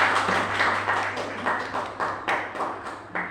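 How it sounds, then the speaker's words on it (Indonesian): A small audience claps for Ibu Sumarti in a roughly steady rhythm of repeated hand claps over a low constant hum, close and moderately loud, with no voices. "Tepuk tangan untuk Ibu Sumarti."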